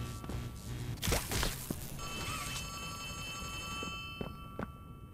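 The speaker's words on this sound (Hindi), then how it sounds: "कहाँ बज रहा है फोन?" Telephone ringing in the horror video game Poppy Playtime Chapter 3, a steady electronic ring with harmonic tones lasting several seconds amid thumps and clatter in a quiet, echoing space.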